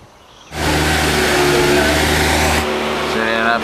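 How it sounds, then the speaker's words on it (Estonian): A WRC rally car engine starts up abruptly and holds a loud, steady mid-pitched drone with a sustained higher whine, then eases slightly to a lower idle-like note near the end. "ja toimub siis WRC auto proovimine"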